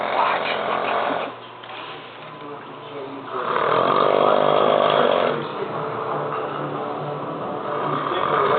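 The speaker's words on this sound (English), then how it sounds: "When I turn the volume up to the TV, he'll snore louder." A man snores loudly in a room with a television playing, long rasping breaths rising and falling in waves, close and dominant, with TV sound underneath.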